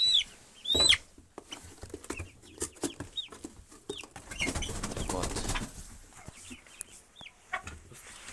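Young chickens on a small homestead cluck and cheep in short, scattered bursts close by, mixed with rustling and handling noises.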